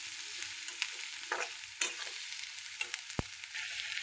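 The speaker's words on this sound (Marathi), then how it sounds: "जरा लाल तिखट पण भाजू द्या बरं का." Red chilli powder roasting in a pan gives a soft, steady sizzle. Occasional scraping strokes and one sharp knock of a utensil cut through it. No talking.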